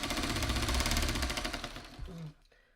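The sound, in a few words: sewing machine stitching fabric strings for a quilt block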